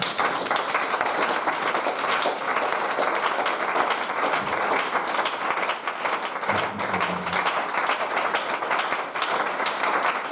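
A church congregation applauds the Lord, steady dense clapping that carries on loudly throughout, with a brief low murmur of voices partway through.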